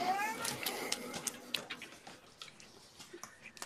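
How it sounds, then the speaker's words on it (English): A pet cat meows a few times early on, fairly faint and close, while a person talks over it indoors. "Mike's cat, right? I think that's my cat."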